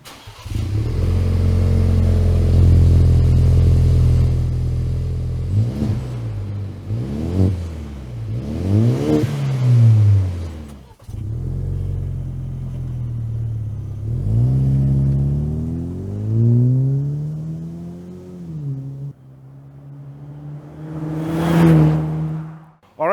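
A 2019 Ford Ranger fitted with an MBRP 3-inch single side-exit cat-back exhaust, heard up close and loud as it idles and then revs repeatedly, each throttle blip rising and falling in pitch, ending in a sharper final rev.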